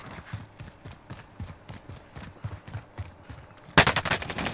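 Rapid gunfire in the video game Warzone cracks out in quick bursts of shots, close and sharp, ending in a louder, denser volley.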